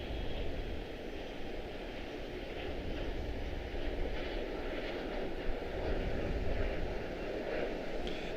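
A heavy long-haul airliner at Charlotte Douglas airport rumbles with a low, sustained engine roar, a steady drone heard from some distance with no voices.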